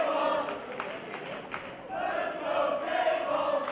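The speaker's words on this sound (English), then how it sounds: "The fans are cheering for the table." Wrestling fans cheering at a Monster Pro Wrestling match, a loud, swelling crowd roar with shouts rising and falling over a few seconds, a dense, continuous wall of voices.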